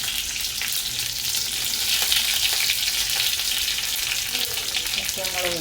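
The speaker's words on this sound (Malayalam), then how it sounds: "ചുമന്നുള്ളി ഇട്ട് തന്നെ കടുക് വറുക്കണം." Mustard seeds and shallots fry in hot coconut oil, giving a steady loud sizzle with crackling pops throughout and a few sharper spits near the end, with no voices.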